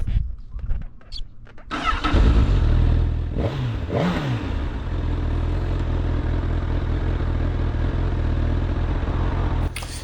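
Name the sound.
Honda Hornet 1000 inline-four motorcycle engine revving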